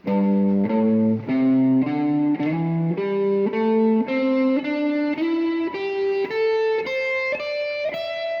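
A distorted electric guitar plays a rising scale, one sustained note after another at a steady, unhurried pace, loud and close with no talking.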